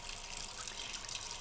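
Water runs steadily from a tap into a sink during face washing, a soft continuous splashing hiss with no voices.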